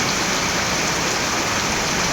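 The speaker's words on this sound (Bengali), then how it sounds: "বৃষ্টি হচ্ছে এখানে প্রচুর পরিমাণে" Heavy rain pours in a dense, loud, unbroken hiss of water striking surfaces, close and constant with no pauses.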